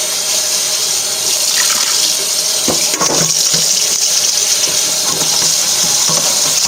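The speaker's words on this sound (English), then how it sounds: "rinse out my stainless steel pan" Tap water runs continuously into a stainless steel sink as a stainless steel pan is rinsed, with a steady close splashing rush and a few brief knocks of metal near the middle.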